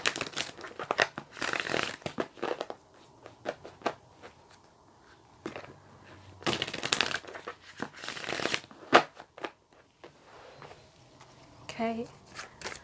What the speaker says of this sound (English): I'm just going to shuffle the cards again.